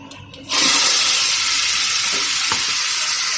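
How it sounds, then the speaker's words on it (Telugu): Ground masala paste for banana stem kurma hits hot oil with mustard seeds, bursting into a loud, steady sizzle that starts abruptly after a quiet moment and holds strong and close throughout. "ఇప్పుడు మనం మిక్సీ పట్టి పెట్టుకున్నటువంటి మసాలా మిశ్రమం అంతా యాడ్ చేసేసుకుందాం"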